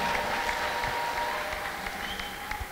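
A church congregation gives the Lord loud applause after a testimony, a continuous, fairly even clapping from a crowded room with faint voices mixed in.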